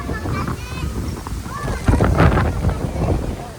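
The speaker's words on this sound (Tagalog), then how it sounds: "Ang lakas ng hangin, no?" Gusty wind buffets the microphone with low rumbling thumps while people talk over it.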